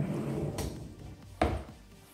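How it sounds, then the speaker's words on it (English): A pot and pan drawer in a spacious home kitchen is pulled open, giving a short woody slide and a sharp thump near the middle, set against a low room hum. "So might as well show you one of the pot and pan drawers."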